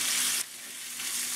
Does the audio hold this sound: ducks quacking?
no